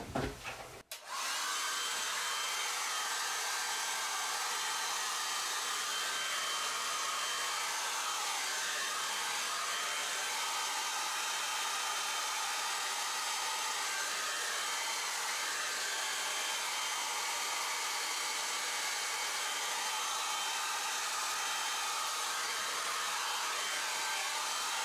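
Hair dryer blowing steadily to dry a watercolor painting, a loud continuous whooshing drone that starts abruptly and runs unbroken for the whole stretch, with no talking.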